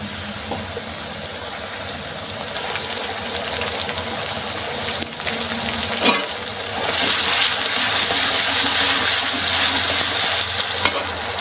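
Onion paste and green chili paste frying in an oily pan, giving a loud, continuous hissing sizzle that swells louder partway through, with occasional clinks of stirring.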